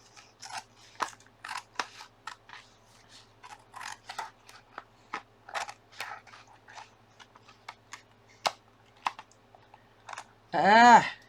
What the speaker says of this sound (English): Can't run my scissors tonight.